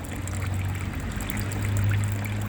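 Chemical drain opener reacts with water inside a clogged drain, giving off a steady, close fizzing and bubbling hiss with a low gurgling undertone that builds slightly toward the end.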